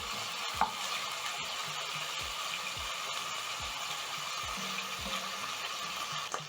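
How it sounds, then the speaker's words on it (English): Beef frying to golden brown in a pot for Kenyan githeri, a constant close sizzle with soft scraping stirs and a few faint knocks of the spoon, no voices. "Check on my meat and stir and cook for another 2 minutes."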